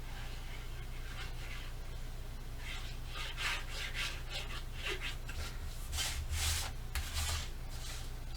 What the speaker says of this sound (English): And burnish all that down.